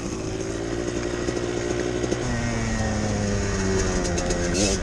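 A Kawasaki KDX200 two-stroke dirt bike engine drones loud and close, a raspy buzzing note that holds steady, then shifts pitch as the revs change while riding in desert terrain.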